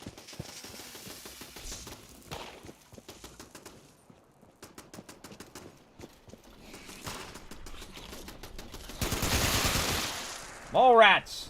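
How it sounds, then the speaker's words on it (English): Automated turrets firing at mole rats in Fallout 76, heard as scattered sharp repeated shots and bursts with a louder rush of gunfire near the end, mixed with game effects and faint talk. "I hear my turrets going off."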